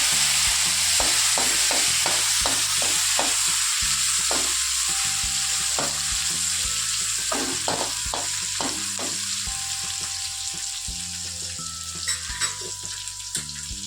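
Steady loud sizzling of food frying in a pan, with repeated soft taps and scrapes of stirring throughout; no voices.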